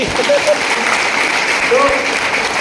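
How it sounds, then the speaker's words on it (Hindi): An audience applauds for Dr. Deva at a speech event, a dense, steady burst of clapping from a crowd, loud and sustained, with some voices mixed in. "आज डॉक्टर देवा से ताली बजे तो एक बार"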